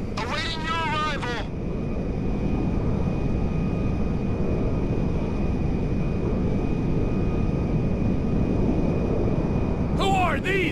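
A jet aircraft in Grand Theft Auto V gives a loud, steady engine roar that runs unbroken for about ten seconds, with voices talking briefly at the start and again at the end.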